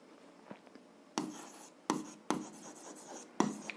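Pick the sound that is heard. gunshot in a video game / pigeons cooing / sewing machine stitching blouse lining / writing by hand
writing by hand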